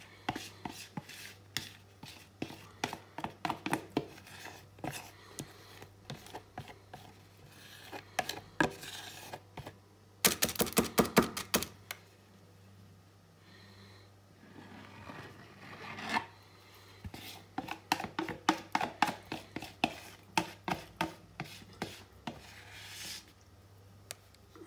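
Weetabix cake mixture being scraped out of a bowl and spread, with bursts of rapid close scraping strokes separated by short pauses and a dense flurry midway.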